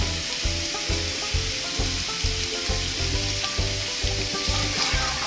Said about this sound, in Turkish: Birazcık salça koyuyoruz. Onu da kavurmamız gerekiyor. Soğanla birlikte.